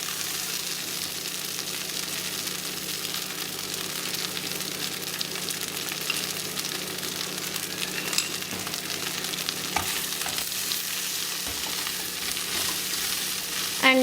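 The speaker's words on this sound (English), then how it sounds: "And cook this idlis for another 2 minutes." Idli pieces fry in a little oil in a pan, giving a steady, even sizzle that holds close and constant throughout, with a few faint stirring clicks and no talk.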